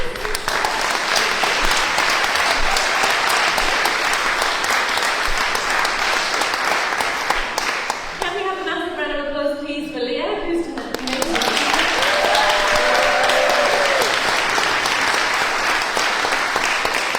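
Hustings audience applauding mayoral candidates with sustained, dense clapping; midway it drops back briefly while a voice speaks over it, then the applause swells again to the end.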